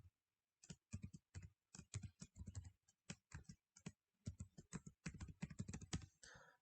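Password being typed on a computer keyboard: quick bursts of close keystrokes with short pauses between, a fairly quiet, crisp clatter with no talking.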